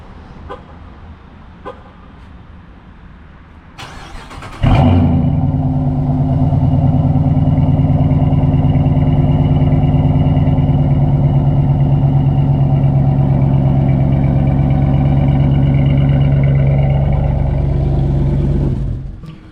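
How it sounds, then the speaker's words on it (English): A Dodge Charger V8 with over 100,000 miles starts by remote start: a short starter crank, then a sudden loud catch into a steady, deep, rumbling idle that holds evenly for about fifteen seconds before cutting off. "Just hearing the sound of a V8 is so therapeutic."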